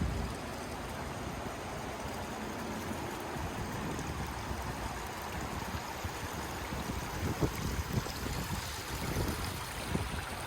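A river runs right behind a log cabin, a steady broadband rush of flowing water that stays close and even throughout with no voices.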